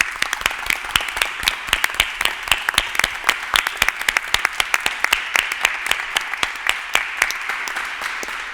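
An audience applauds young Marie S. Curie Programme researchers at a European Researchers' Night gathering, dense sustained clapping with many sharp individual claps running steadily throughout, fairly close and uninterrupted.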